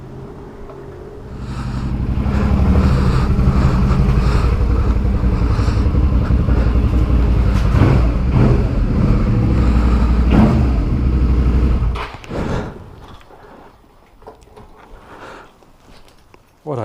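A Suzuki V-Strom 650 motorcycle rides along the road toward a fuel station, its engine rising to a steady loud drone after a couple of seconds, then dropping away to a low idle near the end.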